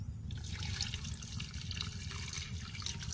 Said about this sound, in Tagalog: maglalagay pa ako ng 2 cups ng tubig.